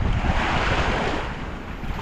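Sea waves washing ashore at a beach, a continuous loud broadband surf roar mixed with wind buffeting the microphone, with no voices.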